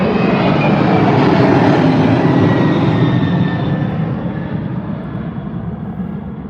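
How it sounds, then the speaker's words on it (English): A United Airlines Boeing 767 jet roars loudly and close as it climbs away from Heathrow on takeoff thrust, a broad rushing engine noise holding steady before slowly fading as it recedes. "Absolutely gunning it out of London here. The United Airlines 767 heading off to New York."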